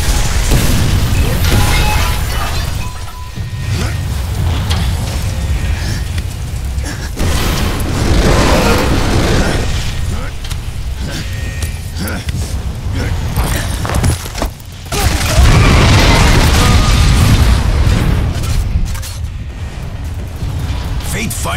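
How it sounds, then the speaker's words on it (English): Heavy booming explosions and rumbling blasts in the sci-fi shooter Bulletstorm as a gravity core blows up, loud and sustained with bursts and mechanical clatter throughout. "I predict an imminent detonation within the gravity core generators."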